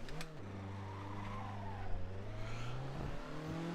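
A Formula Ford race car at Brands Hatch in a racing video game, its engine note droning and rising steadily as it accelerates, with brief tire squeal near the start.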